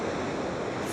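Big ocean waves rolling in at Nazaré, Portugal, a steady full roar of surf with broad wind-like rush, loud and continuous throughout without a break.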